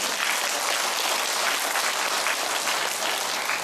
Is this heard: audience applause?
yes